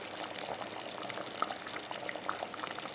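A pot of chicken chana curry simmers on a gas stove with steady bubbling and soft popping, plus a few sharper bursts, and no voices.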